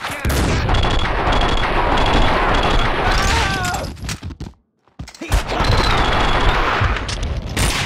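Loud, dense gunfire fills the scene in Max Payne 2, rapid bursts and booms blending into a continuous barrage, cutting out briefly to near silence before the shooting resumes just as heavily.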